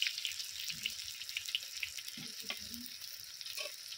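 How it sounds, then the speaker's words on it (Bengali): Faint sizzling as garlic paste and ginger paste are stir-fried in mustard oil for a chicken curry masala, with soft stirring scrapes and light clinks over a quiet background. "এটা সব কিছু ভালো করে মশলাটা কষিয়ে নেব"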